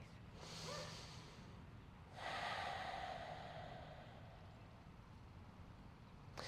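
Breathing during a gentle neck and shoulder yoga stretch, two soft, slow breaths close to the mic, the second longer and fuller, in a quiet room.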